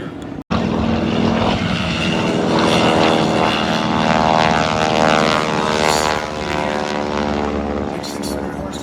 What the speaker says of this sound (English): This looks like another SMJ taking off here.